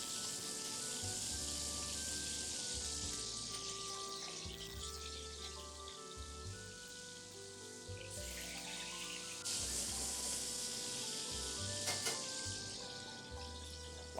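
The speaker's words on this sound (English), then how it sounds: "It's only gonna take like a minute on each side just to saute the scallopini" Veal scallopini sautéing in hot oil in a pan, a steady bright sizzle and crackle that runs throughout at moderate loudness, with background music underneath and no talking.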